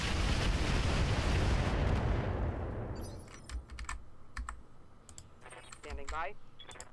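Weapons firing in the mech video game Roguetech: a loud, rumbling barrage dominates the opening seconds, then fades into sharp clicks and short bursts, with some speech.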